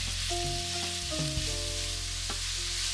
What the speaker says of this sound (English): turn the heat to medium and add the minced meat and stir fry